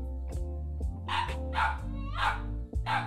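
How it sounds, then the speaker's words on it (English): A dog barks in a run of loud, close, sharp barks, some with whiny, yelping edges, spaced irregularly, with no speech over them. "now she's just barking in general."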